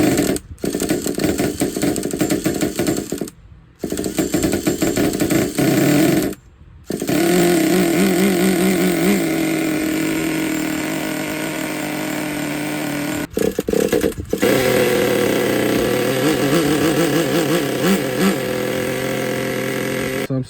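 A nitro RC car engine is pulled over and fires up, revving loud and raspy close by, cutting out briefly a few times before running steadily with a buzzing drone.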